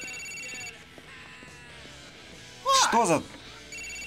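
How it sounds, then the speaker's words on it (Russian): A mobile phone rings in the GTA 4 video game, a short burst of bright, warbling ringtone notes lasting about half a second, preceded by a man's brief startled remark in Russian. "Телефон звонит."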